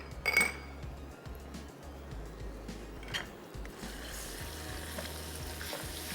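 Garlic paste fries in a pan with a soft continuous sizzle, broken by occasional clinks of a utensil against the pan, heard fairly quietly and close.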